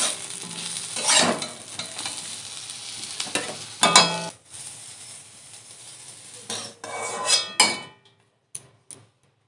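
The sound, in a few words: potatoes frying in oil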